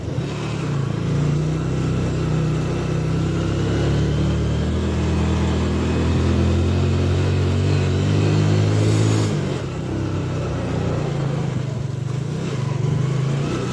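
A motorbike climbs a slippery mountain road near Pokhara in Kaski district, Nepal, its engine droning steadily and close throughout with small shifts in pitch and no talk.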